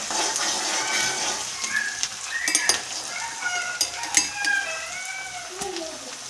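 Chopped onions sautéing in a pan for a home-cooked family breakfast: a steady, moderate sizzle with scattered stirring clicks and scrapes, close by, with no talk.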